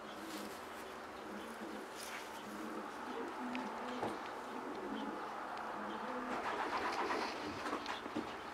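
Pigeons of a marathon strain coo softly around a loft while birds move and flutter nearby. A steady low rustle runs underneath, with faint, scattered calls throughout.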